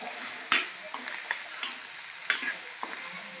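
A raw potato curry being stirred as it sticks to the pan bottom: a steady background sizzle with two sharp clanks of a spoon against metal and lighter scraping taps in between, close up, with no voices.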